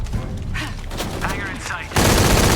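Gunfire from a heavy-recoil gun in Shadow of the Tomb Raider, a loud sustained burst near the end after a stretch of game sounds and voice-like tones.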